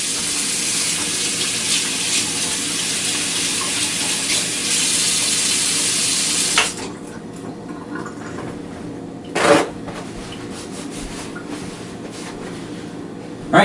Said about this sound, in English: I'll give my hands a quick wash.